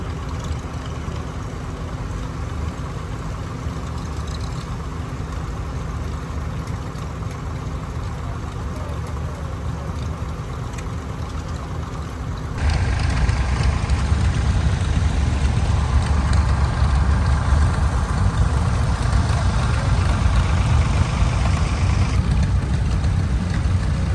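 Antique tractors idling as their owners warm them up before a fall festival parade in Fitzgerald, Georgia, a steady rumbling drone that grows louder and heavier halfway through as more engines join in.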